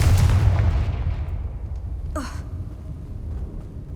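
A Confringo blasting spell from Hogwarts Legacy goes off in a single sharp burst with a quick rising whoosh, over a heavy low rumble of game ambience that slowly fades.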